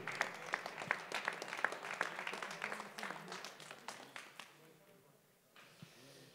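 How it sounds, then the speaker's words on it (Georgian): An audience applauding at a fight press conference for a GAMA event, a dense run of claps that gradually fades out, with an announcer's voice over it. "აპლოდისმენტები."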